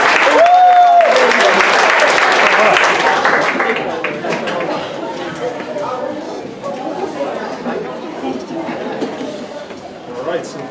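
A crowd at a 6th grade moving up ceremony applauds the graduating class, loud dense clapping at first that fades into murmuring chatter and scattered claps, with voices throughout.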